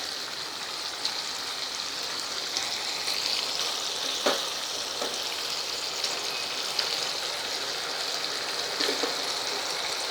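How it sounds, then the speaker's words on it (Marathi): Moong dal cooks in boiling spiced water, giving a steady bubbling hiss with a few soft pops scattered through, moderately loud and close, with no talking. "बघा इथे पाण्याला उकळी आली आहे."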